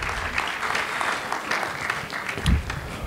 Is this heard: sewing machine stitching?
no